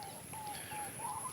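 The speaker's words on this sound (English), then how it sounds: "You can hear the beautiful sound of the bird." A bird calls near flood-swollen paddy fields in rural countryside, giving soft cooing notes that sound faint and some distance off over quiet ambient hiss, with no one talking.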